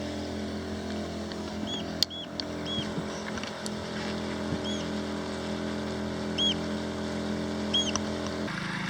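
A distant small motorboat engine at full revs, pushing against the tide in the Menai Strait, drones steadily at a constant pitch, with wind and faint bird chirps in the background.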